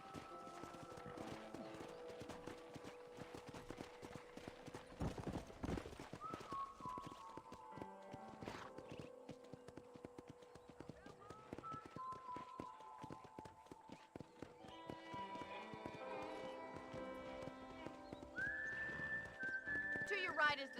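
Steady clip-clop of horse hooves walking on a ranch in Red Dead Redemption, with an occasional whinny, under game music and someone talking.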